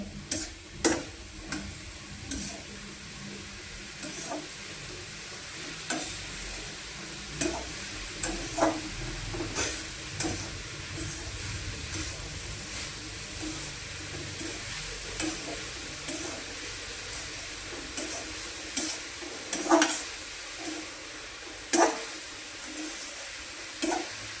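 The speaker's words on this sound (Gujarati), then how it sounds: "બે ચમચી ઘી નાખીએ આપણે બીટ અને ગાજર શેકી લેવાનું છે" Beetroot and carrot roasting in ghee in a hot pan with soft sizzling, punctuated by repeated scraping and tapping of a spoon against the pan.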